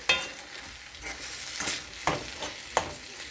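Corned beef being stirred in a pan over low heat, with several scraping strokes of the spoon against the pan bottom over a soft continuous sizzle, close and moderately quiet.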